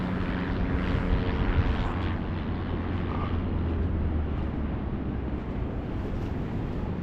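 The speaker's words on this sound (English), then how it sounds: "I can hear a plane there." A propeller airplane, likely from Perranporth Airfield, drones steadily overhead above Perran Sands beach in the UK, a broad continuous rumble that holds at a moderate level throughout with some wind on the microphone.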